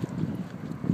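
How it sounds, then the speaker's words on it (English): Strong outdoor wind buffets the microphone in low, rumbling gusts for under a second, steady with no talk over it. "It is really windy. You guys can probably hear that."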